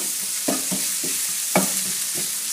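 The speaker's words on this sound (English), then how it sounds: "Stir, stir, stir." Chinese noodles stirred in a pan over low heat, heard as several soft scraping, clacking strokes spaced irregularly over a faint background hiss, close and moderately quiet.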